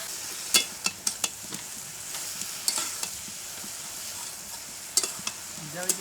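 Eggplant pieces frying in oil with turmeric, salt and cumin powder, a soft steady sizzle with scattered sharp clicks of a spatula or spoon against the pan, close and alone without talk.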